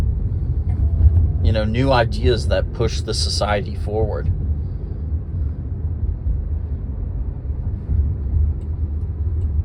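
A Waymo self-driving car rides with a steady low road rumble filling the cabin, while someone talks over it for a few seconds before the rumble continues alone.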